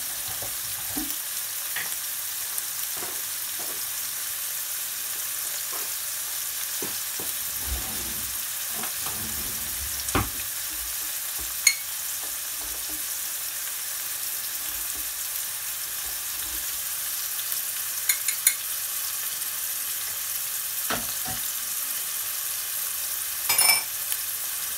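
Kaldereta sizzles steadily in a pan, a continuous bright frying hiss broken by occasional scrapes and clinks of stirring, close and alone.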